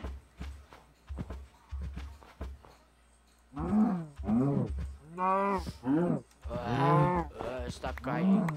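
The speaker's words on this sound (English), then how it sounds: "Oh, it was a cow." A cow in the Minecraft video game gives several loud, close moos in a row, long drawn-out lowing calls following some short clicks and bumps, with no one talking over them.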